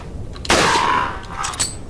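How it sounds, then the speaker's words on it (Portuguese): A single sharp gunshot from a rifle in Resident Evil 4, heard as a loud crack with a ringing tail. A quieter shot follows shortly after. "Tiro na cara."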